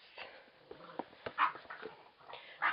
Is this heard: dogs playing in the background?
yes